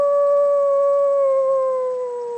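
A person imitates a howl outdoors at night in the rain, one loud, steady, sustained tone that slowly drifts lower in pitch and fades slightly at the end, close to the microphone with no other talk.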